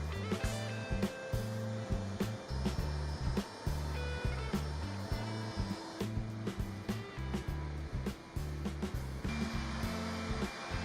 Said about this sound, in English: we continue with the polishing pads on the edges, including the use of our Clindex machine and some hand polishing as well